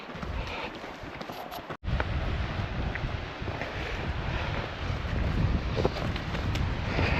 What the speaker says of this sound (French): Voici les chutes d'eau là